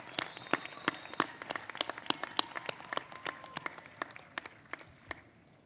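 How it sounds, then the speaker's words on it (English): Scattered applause at a 2015 Rowan University College of Education commencement ceremony, sparse claps from a modest crowd, each one sharp and distinct, tapering off over several seconds. "Applaud them as you stand here ready to graduate."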